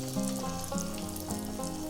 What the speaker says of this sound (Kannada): ಹಿಟ್ಟನ್ನು ನಾವು ಸ್ಪೂನಲ್ಲಿ ತೆಗೆದು ಹೀಗೆ ಎಣ್ಣೆಯ ಮೇಲೆ ಬಿಡಬೇಕು